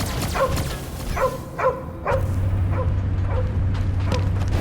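A dog in the Marvel's Guardians of the Galaxy video game barks in a short series of sharp woofs and yips, loud and close, over a steady low mechanical hum from the game scene.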